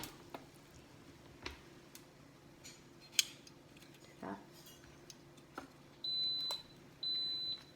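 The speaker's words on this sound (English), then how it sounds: "the timer just went off for our second one" Two short electronic beeps from a kitchen timer for a waffle maker sound at a steady interval over faint background clatter and ticking, fairly quiet and close.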